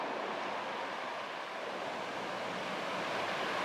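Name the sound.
water flowing in a shallow rocky river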